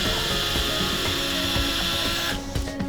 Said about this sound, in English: Now we'll just do some drilling now and we'll see how we go.